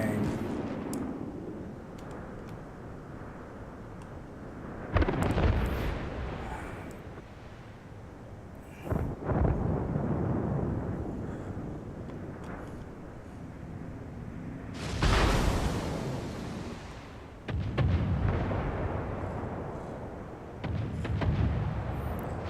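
Naval gunfire and explosions in World of Warships, with a Benson destroyer firing, come as heavy booming bursts at about 5, 9, 15 and 17 seconds over a constant rumbling battle background, loud and close, with some talk underneath.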